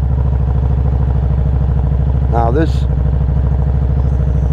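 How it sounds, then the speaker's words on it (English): A Harley-Davidson V-Rod motorcycle with its liquid-cooled Revolution X engine idles steadily and loudly up close, a continuous low throbbing rumble throughout, with someone speaking briefly over it. "let's fire this baby up"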